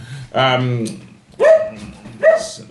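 A dog barks three times close to the microphone, each bark sharp and loud with a short tonal tail and roughly a second between them.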